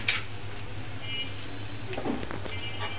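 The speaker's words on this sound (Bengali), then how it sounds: "এই দেখেন আমি নুডলস রান্না করছি" Noodles with vegetables and eggs frying in a pan for a village snack, a steady soft sizzle with occasional stirring scrapes and clinks throughout.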